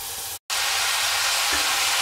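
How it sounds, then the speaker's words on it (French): Onions and a garlic clove sweat in hot oil in a pan, producing a steady broadband sizzle. A brief cut near the start interrupts it, then it continues evenly. "vous versez vos oignons et votre gousse d'ail dedans. Vous faites suer les oignons et l'ail pendant 1 minute"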